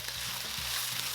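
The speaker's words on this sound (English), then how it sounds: "we're gonna stir for about 2 minutes" Beef stir-frying in a wok over high heat gives a continuous close sizzle, with a few faint scraping stirs under the hiss.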